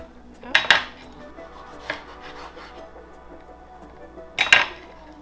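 A knife cuts peaches on a cutting board, two quick bursts of chopping strokes knocking against the board at the start and end, with a softer tap between and quiet stretches otherwise.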